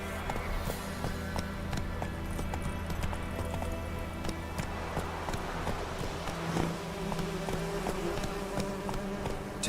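The horse Roach's hooves clip-clop steadily in The Witcher 3 video game, a rapid continuous trot of close hoofbeats over a faint insect-like buzz and ambient hum.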